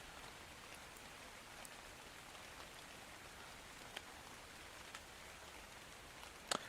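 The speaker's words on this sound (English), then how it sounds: "I do enjoy the sound of rain." Steady rain falls in the survival game Ark, a soft continuous hiss of drops with a few faint ticks and one sharper tap near the end, no talking.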